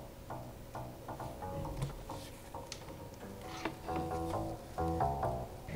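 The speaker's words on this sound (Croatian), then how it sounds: "bas koji zvuči ovako" A bass line plays in a music production program as a steady run of repeated synthesized notes at moderate volume, with no voice over it.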